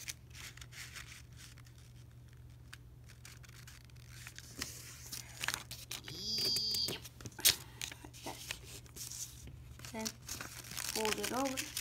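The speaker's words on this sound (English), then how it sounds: "You're going to fold that, the top part, into the middle." Paper being folded and creased to make an origami ninja star, giving soft close crinkles, rustles and sharp creasing sounds in an intermittent pattern, with occasional speech nearby.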